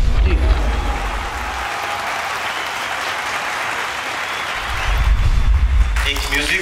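An audience at a Sikh arts and film festival breaks into sustained, dense clapping that holds steady for several seconds, with a voice faintly audible at the start and end.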